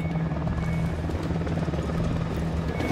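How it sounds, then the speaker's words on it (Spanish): A military helicopter in the video game Ghost Recon Wildlands drones loudly and steadily throughout, its rotor and engine hum continuous and close with no talk over it. "Cuidado, un helicóptero de la unidad."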